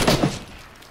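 Tommy gun fired in a video game during a squad wipe, a short rapid burst of close, loud shots that cuts off and fades within a second.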